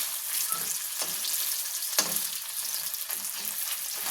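Spiny gourd (kakrol) pieces fry in a pan, a steady close sizzle with a few sharp utensil clicks and stirring scrapes breaking through.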